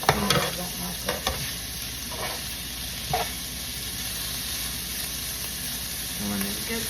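Bacon frying in a pan for Southern-style cabbage gives a steady, quiet sizzle, broken now and then by a few soft stirring knocks.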